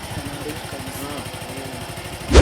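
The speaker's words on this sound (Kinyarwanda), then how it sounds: "Moto." A motorcycle engine runs at a steady idle-like putter throughout, with people talking over it and a sudden loud burst right at the end.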